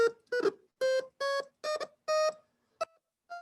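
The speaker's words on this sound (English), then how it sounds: "just like a regular piano, this 555 timer piano also has to be tuned occasionally" A 555 timer electronic piano plays a run of separate buzzy square-wave tones, about eight notes of varying length and pitch, loud and close with short silences between them.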